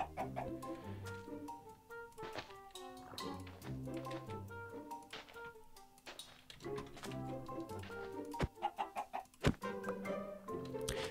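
Blocky chicken clucks from Minecraft, a hardcore survival game, repeat in short bursts over a steady musical background, quiet and somewhat distant.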